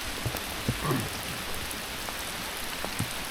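Steady rain falls on trees in an upland area at Carrickfergus, a soft continuous patter with a few louder drops landing close by and no voices.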